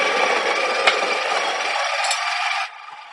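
A grinder running steadily for nearly three seconds, a loud close rasping whir that cuts off abruptly to near silence.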